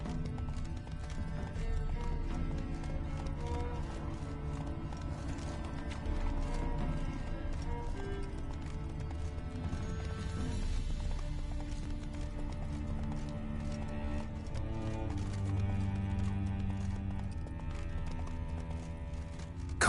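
Steady hoofbeats of the horse Roach galloping through The Witcher 3, a continuous rhythmic clip-clop under a dense layer of music and game ambience, with a brief whinny, loud and sustained throughout.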